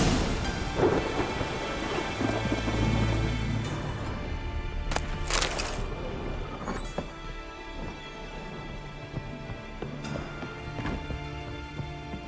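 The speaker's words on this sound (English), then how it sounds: "And it's raining again." Rain pours steadily in the video game The Witcher 3: Wild Hunt, with rolling thunder rumbling early on and a few sharp cracks later, and no voices.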